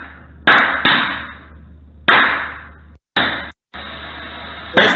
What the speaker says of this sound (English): what you hear are all the prismatic cells bursting